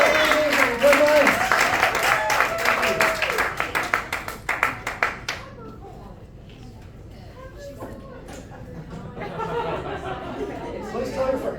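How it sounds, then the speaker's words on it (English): An audience at a magic night in Memphis claps and chatters loudly for several seconds; the applause fades away, then a softer wave of crowd noise and scattered clapping returns. "Big round of applause for Sanjay and our co-op."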